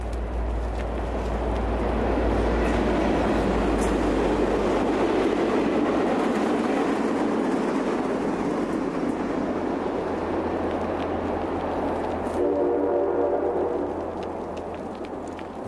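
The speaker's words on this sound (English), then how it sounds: "Another push-pull commuter train" A push-pull commuter train rumbles past along the C&O Canal line, a loud, steady roar with low rail rumble throughout, fading slightly near the end.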